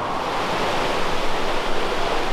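A waterfall in a gorge near a highway trailhead rushes with a steady, loud, broadband roar of falling water, constant throughout with no other sounds breaking through.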